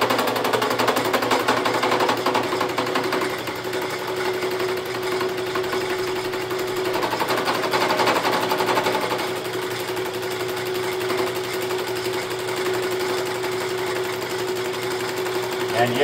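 A fly cutter surfaces flat parts held in jigs on a Bridgeport milling machine, giving a steady close whirring and chattering drone with a constant tonal hum that runs without break.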